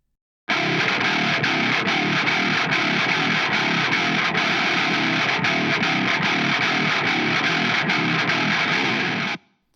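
A heavily distorted, processed Bass VI guitar with Newtone Axiom strings, boosted in the high mids, plays a steady low chugging riff for about nine seconds, loud and dense, then stops abruptly.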